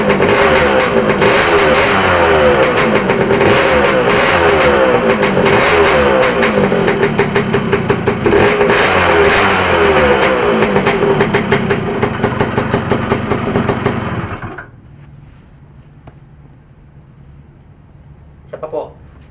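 An engine cranks and catches after primary ignition coil troubleshooting, running loud and rough with an uneven, knocking rhythm for about fourteen seconds before cutting out to near silence, then a brief click at the end; someone talks over it.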